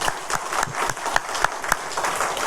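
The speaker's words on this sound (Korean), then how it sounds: "하나님께 감사의 박수 한번 올려드립시다." A church congregation claps in thanks, a dense, close burst of many hands with some rhythmic accents, lively and fairly loud throughout.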